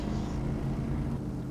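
A heavy truck engine in the off-road driving game SnowRunner drones steadily, a loud, close, low rumble with a constant tonal hum throughout.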